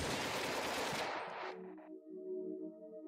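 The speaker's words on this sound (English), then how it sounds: "The bandits start shooting at them." Bandits open fire in the video game Icy: a loud, dense burst of rapid gunfire that cuts off abruptly after about a second and a half, leaving a faint ringing tonal hum.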